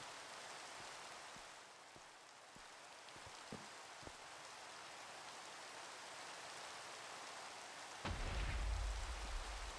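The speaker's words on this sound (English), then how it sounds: "Thundering as well." Steady rain hisses throughout a Minecraft world in the Nomifactory modpack, with scattered drip-like ticks, then a deep rumble of thunder rolls in near the end, loud and low beneath the rain.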